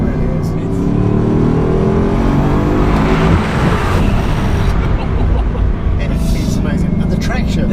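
Bugatti Chiron accelerating hard in first gear: a loud, continuous engine roar that climbs steadily in pitch, close up and dominant throughout.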